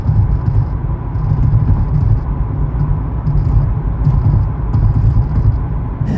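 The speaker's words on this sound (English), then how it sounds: "if you're hearing a rattle, that is this gauge pod, which has been rattling all week and driving me crazy" A 2023 Nissan Z's gauge pod rattles inside the cabin, a faint buzzing rattle riding over the loud, steady rumble of the car underway.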